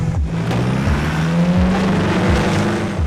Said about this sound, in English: Andre hangs up a bit, but powers through his way with the Hilux easily.